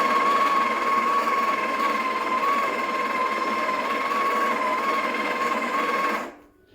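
A Breville Barista Express BES870 espresso machine in Cranberry Red grinding coffee at its finest setting: a steady, loud motor whir and grinding drone of about six seconds that cuts off abruptly near the end.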